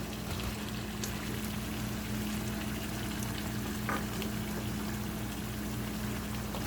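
Cut potatoes and mutton being sautéed in a pot, a steady close sizzle and crackle of hot oil running continuously with a low background hum, no voices.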